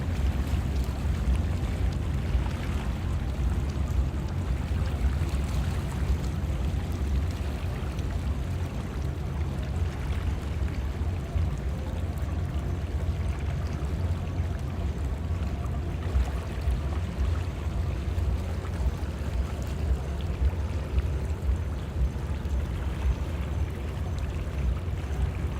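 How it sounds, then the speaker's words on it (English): Water moving by Brickell Key in Miami at night, heard as a steady, close rush of low wash and wind-like noise with no distinct splashes, continuous throughout. "You can actually hear the water too."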